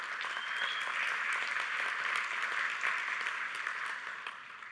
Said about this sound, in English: I would kindly ask you for a round of applause for Oliver